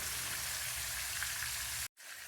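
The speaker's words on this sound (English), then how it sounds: "For our chickens, I've been frying away for a combined, including both sides, about 8 minutes now." Flour-dredged, butterflied chicken cutlets frying in a pan for restaurant-style chicken piccata, giving a dense, steady sizzle close by that cuts out abruptly for an instant near the end.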